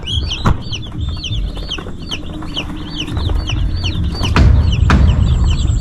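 Chickens clucking and chirping repeatedly against a noisy background, with a few sharp clicks and knocks nearby.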